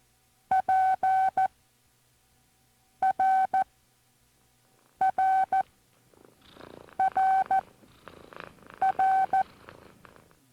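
Morse code tones from a ham radio novice training cassette spell out a word beginning with P, steady beeping groups with short gaps, clear and loud, then continuing under a faint background.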